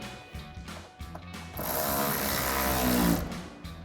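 A power tool runs steadily for about a second and a half, driving a fastener that holds a RedRock pocket-style fender flare to the bedside of a 2009–2018 Ram 1500 pickup. Shorter tool bursts come before it, with no talking over the sound.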